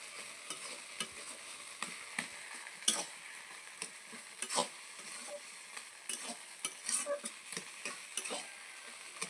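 Malabar spinach (pui shak) sizzles in a hot pan while a spoon stirs it, with steady frying crackle and irregular scraping clicks against the pan throughout.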